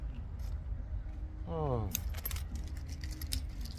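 Car keys jangle and rattle in a brief metallic flurry while being searched for at a luxury car dealership, with a short voiced exclamation in the middle and steady background noise throughout.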